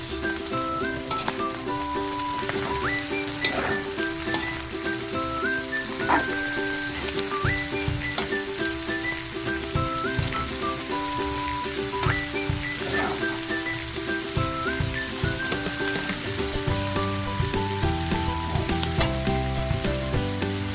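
Pancit bato noodles frying and being stirred in a pan with cabbage, a steady sizzle with occasional scraping and stirring sounds, partly under loud background music with a repeating melody.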